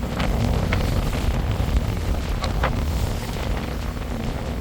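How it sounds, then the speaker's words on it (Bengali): Strong gusting wind roars steadily aboard a passenger launch, the Kornofuli-10, on the rough Meghna river, a dense low rumble with occasional brief knocks and splashes, no talk. "প্রচন্ড বাতাস হচ্ছে, যার কারণে নদী অনেকটাই উত্তাল হয়েছে"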